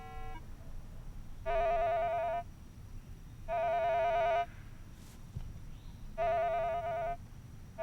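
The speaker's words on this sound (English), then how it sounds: "these will overload or send an overload signal to the machine, and you'll recognize the sound because it'll sound like this" A Minelab Explorer II metal detector gives its overload signal: three separate bursts of a buzzy, tonal electronic warble, each about a second long and evenly spaced, over a low background hiss with no talk.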